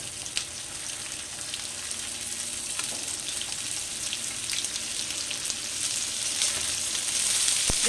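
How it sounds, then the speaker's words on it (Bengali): Chopped onion frying in a pan, giving a steady close sizzle with faint scattered crackles that grows slightly louder toward the end. "পেঁয়াজটাকে ভালো করে লাল লাল করে একটু"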